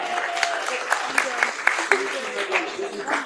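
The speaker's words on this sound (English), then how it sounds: "let's give our seniors a round of applause" A council meeting audience applauds the senior softball team, moderate clapping with distinct individual claps standing out, somewhat distant in a room with a background voice.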